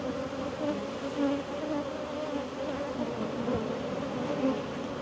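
A dense, steady buzzing of many agitated honey bees swarming close by at an open hive, continuous, with no voices over it.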